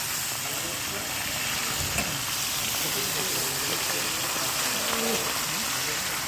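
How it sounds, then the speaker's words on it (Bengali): Padma hilsa fish frying in oil at Mawa ghat while being stirred, a loud, close, continuous sizzle with soft scraping movements through it. "মাছগুলোকে নাড়াচাড়া করা হচ্ছে ভালোভাবে,"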